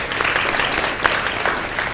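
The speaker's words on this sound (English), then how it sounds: "So a round of applause for him, please" A panel audience claps in dense, continuous applause that stays loud and even throughout, with no voices over it.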